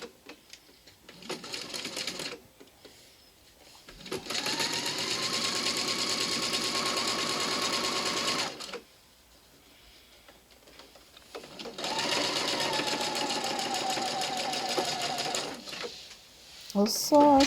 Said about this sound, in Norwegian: Sånn, og så skal jeg sy skuldersømmene.